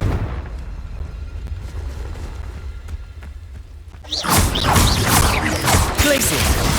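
A Confringo fire spell in Hogwarts Legacy erupts into a loud explosion midway, after a quieter stretch of low rumble, followed by a sustained crackling, roaring blast.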